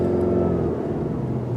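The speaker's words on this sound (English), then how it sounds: "when the light turns green, you hit the gas pedal, the engine comes back on" A 2020 Subaru Legacy XT turbo engine fires back up after an automatic stop-start at a traffic light, a steady low idle hum and rumble holding evenly throughout.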